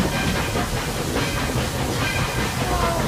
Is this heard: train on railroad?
yes